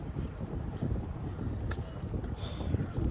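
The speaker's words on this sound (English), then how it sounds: "It's so damn windy that the phone is shaking." Strong wind buffeting a phone microphone outdoors, a continuous low rumbling roar with gusty fluctuations and a few faint incidental clicks.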